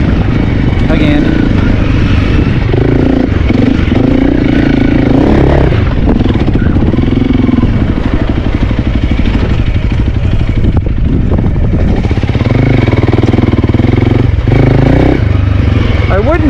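A Honda CRF 300L dirt bike engine revs and roars up close as it rides hard enduro over rough ground, pitch rising and falling with throttle, with clattering and bumps throughout.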